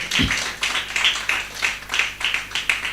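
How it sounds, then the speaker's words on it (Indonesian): Steady church congregation applause during a worship service, a rhythmic pulse of many hands clapping, fairly loud and continuous throughout, no voices above it. "Mari berikan tepuk tangan dulu bagi Tuhan."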